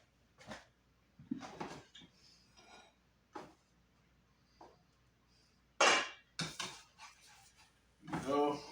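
A spatula clatters among pots and pans in a home kitchen, with scattered close clinks, knocks and metallic rattles in irregular bursts while a person talks quietly between them.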